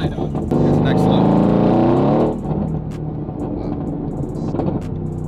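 A Mercedes-AMG GT engine revving hard, a loud rising roar with a strong harmonic whine that climbs for about two seconds, then drops into a rumbling idle with crackles while people talk over it.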